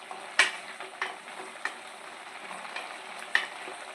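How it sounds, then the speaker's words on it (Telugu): A spoon stirring carrot halwa in simmering milk, with a few sharp scrapes against the pot spaced irregularly over a low, steady sizzle and bubbling, fairly quiet and close. "ఇందులో రిమైనింగ్ అంతా మన దగ్గర అంతా మొత్తం అంతా మరిగే విధంగా మీరు కలుపుకొని ఉంచుకోండి"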